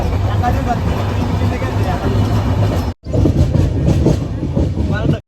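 A moving, crowded local commuter train rumbles and rattles steadily, with a crowd's chatter and voices mixed in, briefly cut off partway through.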